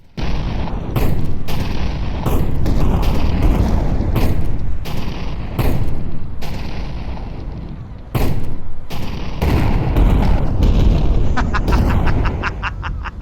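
Grenade launcher shots and explosions in GTA V played in VR, a loud run of sharp, booming bursts fired in quick succession, close and dominant, with brief gaps between volleys.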